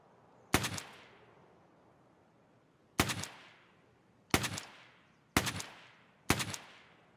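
Five sharp, loud single gunshots from Escape From Tarkov, spaced unevenly over several seconds, each with a short decaying echo tail, with no voices.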